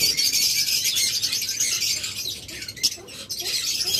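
Caged pet birds such as lovebirds and cockatiels make dense, high chattering chirps and calls, continuous and fairly loud throughout.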